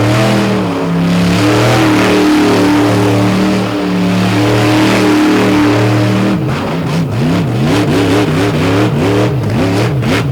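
A big supercharged blower-motor engine at a tractor pull roars loud and close, holding a heavy steady drone before surging into rising and falling revs toward the end, with no voices over it.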